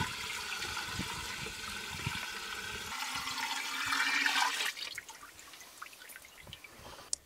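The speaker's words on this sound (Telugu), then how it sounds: "ముందుగా ఈ 10 లీటర్ల దేశీ ఆవు మూత్రాన్ని ఈ 200 లీటర్ల నీటిలో కలుపుకోవాలి." Ten litres of desi cow urine are poured into 200 litres of water to prepare dravajeevamrutham for natural farming. A steady gushing stream rises, stops abruptly and gives way to scattered drips and trickles.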